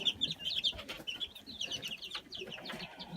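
Several Rhode Island Red and Cornish cross chickens clucking and chirping nearby on a farm in a busy, irregular chatter, with soft background rustling.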